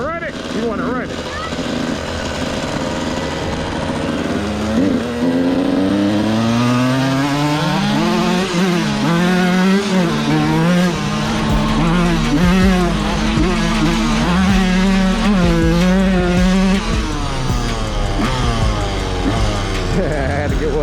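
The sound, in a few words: Yamaha YZ 125 two-stroke dirt bike riding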